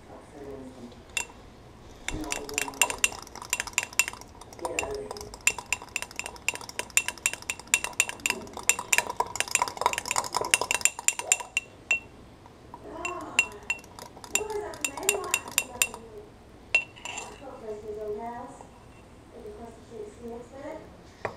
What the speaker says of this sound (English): I'm gonna mix it again because there's still some chunks at the bottom.